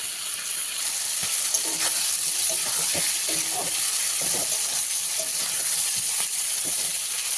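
Shrimp frying in a pan, a continuous hissing sizzle with faint clatters of a utensil close by, alongside a high steady whine, no voices.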